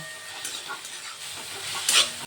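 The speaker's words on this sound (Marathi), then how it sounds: "मिरची आणि कांदा चांगला परतून घेऊया" Finely chopped onion and green chilli sauté in a pan, with close stirring scrapes over a gentle sizzle that swells into a brief hissing burst near the end, no voices.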